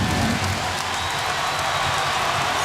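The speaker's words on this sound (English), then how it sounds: "The big crowd is loving it." A big crowd at a Duke versus Virginia college basketball game cheers and applauds, a steady loud roar filling the arena with no clear breaks.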